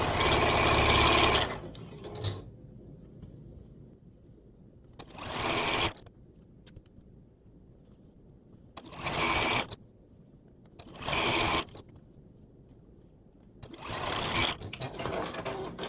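Sewing machine stitching quarter-inch quilt seams for a checkerboard quilt, running in several short bursts of rapid whirring with quiet pauses between them.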